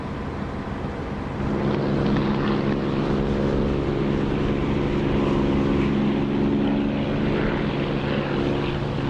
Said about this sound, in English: Right, I'm throttling right back.